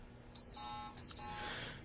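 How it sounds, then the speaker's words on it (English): A handheld four-gas detector sounds its alarm, giving two short, shrill electronic beeps close by, faint and with no talking. "Other alarm conditions include TWA or STEL, overrange, low battery warning, dead battery alarm, and sensor failure."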